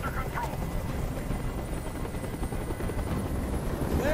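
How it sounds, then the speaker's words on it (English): A helicopter hovers with a steady, loud rotor wash and broadband roar in the game Detroit: Become Human, continuous and close for the whole stretch. "Tell that helicopter to get out of here."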